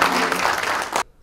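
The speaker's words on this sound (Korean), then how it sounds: "박수 부탁드리겠습니다." A short, loud burst of audience applause at a lecture by an education official, dense clapping that cuts off abruptly after about a second.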